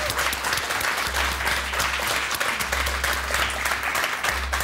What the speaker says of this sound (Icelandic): Við skulum klappa fyrir því.